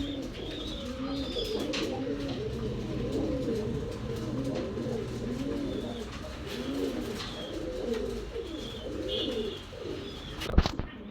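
Several pigeons being raised for tournament flying coo steadily in a loft, overlapping rounded calls continuing throughout with a few faint chirps and a brief knock near the end.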